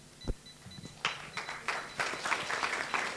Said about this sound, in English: Let's clap for Marianne as she takes a seat.